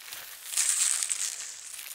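Plastic wrapping crinkles and rustles steadily while being pulled off a newly unboxed Boyuurange A50 tube amplifier, a close, soft, hissy crackle that swells briefly in the middle.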